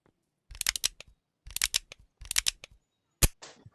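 A revolver in the VR video game Animal Company gives three quick bursts of rapid mechanical clicks, like a cylinder being spun, then one sharp, loud shot with a brief noisy tail.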